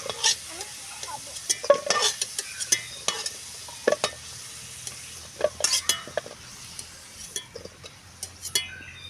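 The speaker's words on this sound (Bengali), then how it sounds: "আলু আমার ভাজা হয়ে গিয়েছে, লাল লাল করে ভেজে নিয়েছি। এখন আমি তুলে নেব।" Fried potatoes, browned deep red, sizzle steadily in hot oil as a utensil stirs and scrapes the pan and lifts them out, with scattered metallic clinks over the continuous frying hiss.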